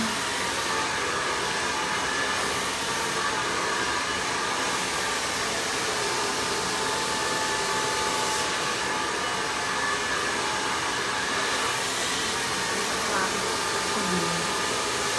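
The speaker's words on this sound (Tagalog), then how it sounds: "Yeah, paharap po ang ating blower." A handheld hair dryer blows on medium heat while drying and styling long layered hair, a loud steady rushing airflow with slight shifts in pitch as it is angled, continuous throughout with no talk.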